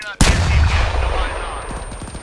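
A rocket launcher fires in the military shooter Arma 3, one sudden loud blast followed by a long rumbling decay, with faint distant gunfire pops trailing behind.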